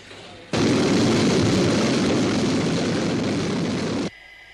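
Jet aircraft XV-104 on a test flight, a loud steady roar that starts abruptly, holds at full strength for about three and a half seconds, then cuts off sharply.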